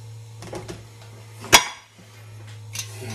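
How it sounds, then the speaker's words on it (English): Metal lids and screw bands going onto filled glass jars of homemade salsa: one sharp, bright clink of metal on glass stands out, with softer scattered taps of handling around it over a low steady hum. "Put on the lids and the bands"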